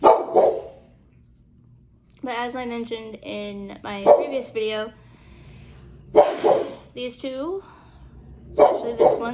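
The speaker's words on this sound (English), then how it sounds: "I am sorry about my dog barking." A pet dog in a home barks in repeated sharp bursts, several short volleys separated by pauses, loud and close, while someone talks over and between the barks.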